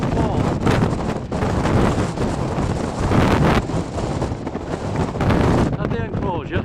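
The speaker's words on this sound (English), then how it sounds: "I hope you can hear this, because the wind up here, my goodness." Fierce wind roars across the microphone on an exposed hilltop by an Iron Age enclosure near Jenkin's Beck, loud and gusting throughout, with someone talking faintly underneath.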